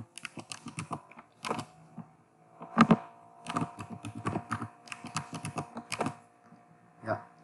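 Computer keyboard typing a root password, close-up bursts of sharp key clicks in short irregular runs separated by brief pauses, fairly quiet overall.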